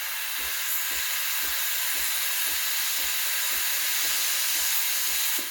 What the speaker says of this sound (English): Turn on the steamer, wait about 10-15 seconds until you start hearing the pump.